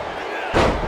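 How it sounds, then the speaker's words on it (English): A body slam from a fireman's carry takeover in the WWE 2K23 wrestling video game hits with a loud, sudden thud about halfway through, following a quiet buildup and sitting over a constant arena crowd roar. "Textbook fireman's carry takeover."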